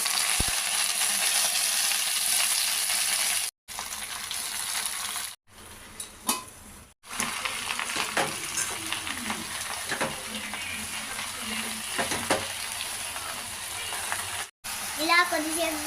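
Amaranth leaves are added to a hot pan with fried green chillies and stirred, giving a crackling sizzle with utensil scrapes and clinks, broken by brief pauses, while a voice talks faintly at times.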